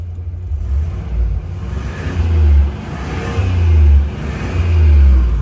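1976 Cadillac Eldorado engine revving, deep low rumbling surges rising and falling about three times from a steady idle, close and loud, with no talk.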